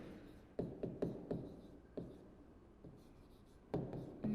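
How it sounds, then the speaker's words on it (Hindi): Pen or chalk strokes of handwritten notes, a series of short scratchy strokes with pauses between them, close and fairly quiet, with no talking. "लिख लेते हैं अपन"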